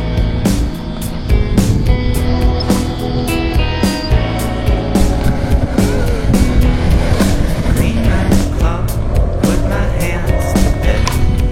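Skateboard riding and rail grinding during a skate session: a loud, steady rolling rumble runs throughout, broken by repeated sharp clacks and impacts, with no talking.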